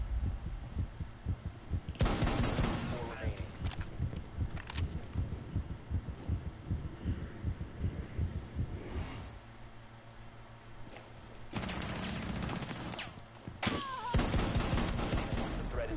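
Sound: rapid gunfire from a spammable gun in a video game

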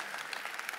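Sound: round of applause

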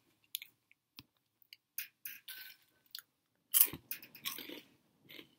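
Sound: chewing crunchy veggie straws during a mukbang

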